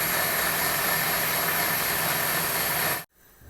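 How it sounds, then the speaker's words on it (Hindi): Countertop blender whirring at full speed as it purees sliced ginger with water, a loud steady roar lasting about three seconds before cutting off abruptly to quiet room noise. "ये अच्छी तरह इसको हम ब्लेंड कर लेंगे"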